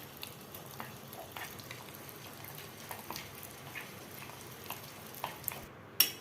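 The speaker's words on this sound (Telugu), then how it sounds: "ఈ బటర్ కూడా ఈ చాక్లెట్లో మెల్ట్ అయ్యే విధంగా బాగా కలుపుకోవాలి" Butter being stirred into melting chocolate in a pan, a quiet steady patter of soft scraping and light clicks, faint and close, with no talk.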